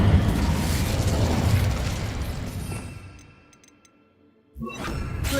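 An Incendio fire spell cast in Hogwarts Legacy: a loud, roaring burst of flame and whooshing blast that fades out over about three seconds, then a second sharp burst near the end.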